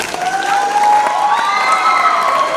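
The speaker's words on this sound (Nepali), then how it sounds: "विजयका लागि जोरदार ताली" An audience at a welcome and farewell program applauds and cheers for Vijay, with loud, dense, continuous clapping and a few raised voices over it.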